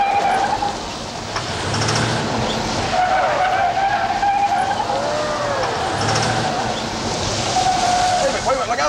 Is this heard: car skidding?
yes